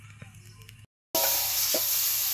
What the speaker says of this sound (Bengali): এখন এই যে আলু, বেগুন আর পটলটি আর ডাঙাটি ভাজা নিব।